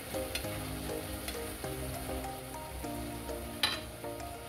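String beans and Baguio beans sizzle steadily in a pan, with soft scraping of stirring mixed into the constant frying hiss, close and even throughout.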